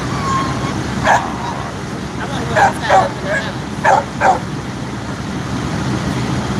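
Several dog barks and yips ring out at a distance at a fire scene, scattered in small bursts over a steady background roar, with faint voices mixed in.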